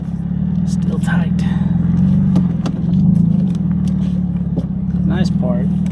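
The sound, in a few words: vehicle engine while maneuvering a trailer at camp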